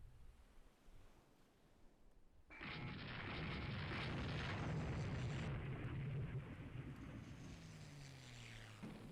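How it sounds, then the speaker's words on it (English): A missile strike on a warship in the naval game Rule the Waves 3 sets off a sudden loud explosion that swells into a sustained, roaring rumble with sea-like wash, fading slowly afterward. "Good missile strike on that ship."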